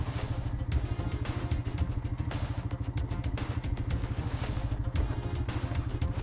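An ATV engine pulling away in second gear chugs with a quick, even, rattling beat, close by and moderately loud throughout.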